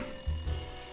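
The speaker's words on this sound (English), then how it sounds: "Go back and answer the phone now." A telephone rings once in the detective adventure game Blacksad: Under the Skin, a short low buzzing ring standing alone against a faint steady background hum.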